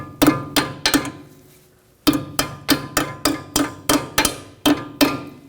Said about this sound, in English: Just use a hammer.